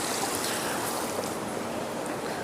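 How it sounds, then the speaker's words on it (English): A waterfall rushes in a steady, dense wash beside a city street, with faint traffic and urban noise blended into the constant roar. "how about on a street with some city noises in the background and a waterfall?"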